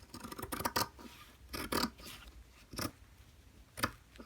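Scissors snip through tubular skirt fabric near a seam in a series of crisp, close cuts, spaced irregularly, with a few quick double snips, quiet and without talk.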